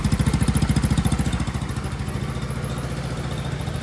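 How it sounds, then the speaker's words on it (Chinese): An idling Haomai 125 scooter exhaust putters in a fast, even, low thumping rhythm close by, steady and alone, with slight mechanical clatter on top. "排气管的声音"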